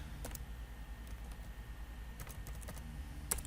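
Code is typed on a computer keyboard in the NetBeans IDE while writing a Java MySQL program: a sparse run of quiet keystroke clicks over a low steady hum, with no talking.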